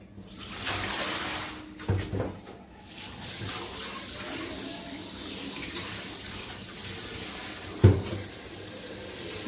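Water running steadily into a large container in a home kitchen, a continuous close splashing rush with a couple of brief clunks of the vessel.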